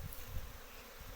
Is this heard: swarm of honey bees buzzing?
yes